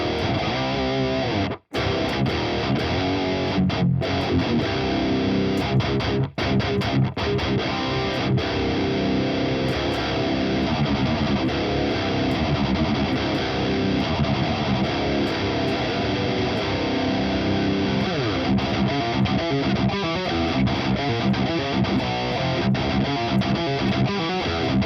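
Metal rhythm guitar played through the Revalver 4 amp simulator, a dense, distorted, continuous chug running loud and steady for the whole stretch with one brief dropout near the start.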